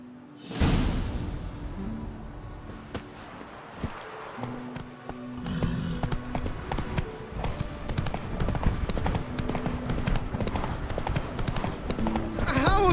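Horse hooves clip-clop in The Witcher III, starting after a brief pause and building into a steady, fairly loud galloping rhythm over ambient game sound and low tones, with no talking.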